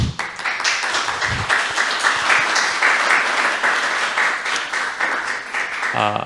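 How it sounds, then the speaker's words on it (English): Sustained audience applause at a tech conference talk fills the room, a dense wash of many hands clapping at steady loudness from start to finish. "Give a round of applause."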